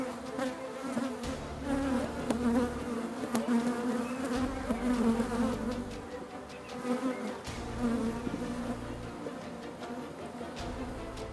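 Honeybees swarm in a steady, dense buzz around a backyard hive after being moved into it, with a busy insect drone filling the scene continuously, over what sounds like a steady low tonal backing.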